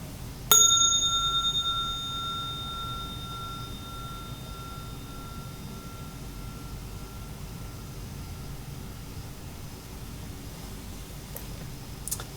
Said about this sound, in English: That is it's just an impressive sound coming out of a janky old candlestick